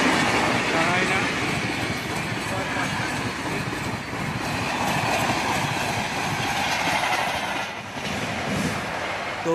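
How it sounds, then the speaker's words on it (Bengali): The Howrah to Mumbai Gitanjali superfast express roars through Jhargram station at full speed without stopping, a loud, continuous rush of rattling wagons and clattering wheels, with someone talking over the din. "superfast Gitanjali express Howrah two Bombay এইমাত্র ঝড়ের বেগে বেরিয়ে গেল"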